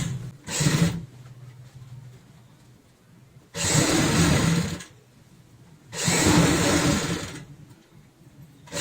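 An electric sewing machine stitches pieces of old denim jeans for a zipper travel bag, running in three bursts of steady whirring and needle chatter, separated by quieter pauses, close and fairly loud.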